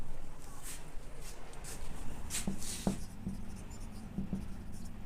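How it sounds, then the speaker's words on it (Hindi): Handwriting with a pen while working through a calculus problem: soft, close scratching strokes with a few sharper taps, under light background noise. "मैं इसको साइड में लिख देता हूँ"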